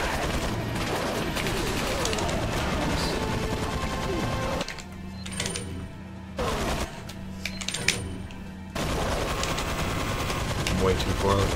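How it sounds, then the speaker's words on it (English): A turret in the Resident Evil 4 video game fires long bursts of rapid machine-gun fire, dense and loud, broken by a few seconds of quieter gaps with scattered shots before the chattering resumes. "I might get shot by this turret though"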